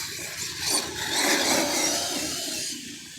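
Body of a Losi LST 3XLE RC truck rubbing against its wheels or chassis, a rough scraping hiss mixed with a whirring motor, close and fairly faint, lasting a few seconds.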